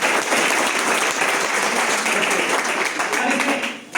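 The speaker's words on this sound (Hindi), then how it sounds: "तो एक बार जोरदार ताली अपने लिए बजाओ यार" Loud, sustained applause from an audience at a Hindi-language lecture, dense clapping that holds steady for several seconds before tapering off at the end.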